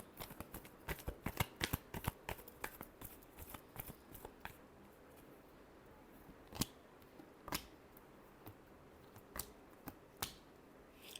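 Cards being shuffled for a reading, a close, crisp run of riffling flicks and snaps that thin out to a few sharp taps, heard alone at low volume.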